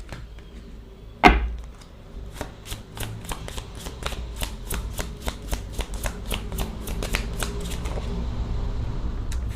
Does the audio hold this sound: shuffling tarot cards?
yes